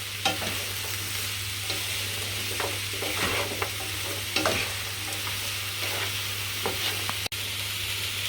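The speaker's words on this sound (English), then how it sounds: "We'll mix this in all well with the onion and garlic, and we'll fry off the vegetables for a couple of minutes." Diced carrots fry with onion and garlic in a pan, giving a steady close sizzle over a low hum. Irregular scrapes and taps of a stirring utensil break in now and then, and nobody speaks.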